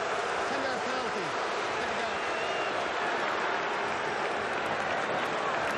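A stadium crowd at a Florida Atlantic vs. Nebraska college football game reacts to a holding penalty with a loud, sustained roar that fills the whole clip, with voices mixed in.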